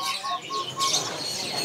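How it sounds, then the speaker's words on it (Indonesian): A caged golden-headed weaver calls at a bird market, giving short, repeated high chirps and a brief trilling burst, moderately close against light background noise. "di sini ada yang namanya burung manyar kepala emas ya"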